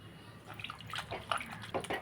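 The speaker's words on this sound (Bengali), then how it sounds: "আরেকবার আমি গরম জলে লবণ দিয়ে পরিষ্কার করে ধুয়ে নেব" Fish are rinsed in hot salted water, making short close splashes and trickles of handled water that come in small bursts, fairly quiet and with no talking.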